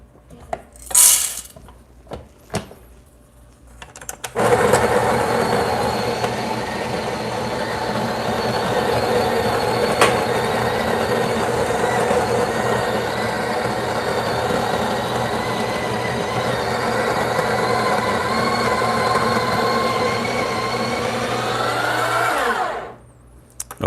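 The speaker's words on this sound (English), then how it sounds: "I'm planning on using the built-in grinder from the Breville Express" The built-in grinder of a Breville Barista Express grinds coffee in one loud, continuous whirring drone of about twenty seconds. A few clicks and knocks come before it, and it winds down sharply at the end.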